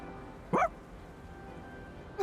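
In the video game Persona 3 Reload, a dog gives two short, faint yips about two seconds apart over a steady low background hum.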